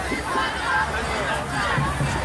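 Dense crowd commotion at a street protest in Houston, Texas, with hundreds of people milling about; a steady babble of many overlapping voices fills the scene at close range, with no single voice standing out.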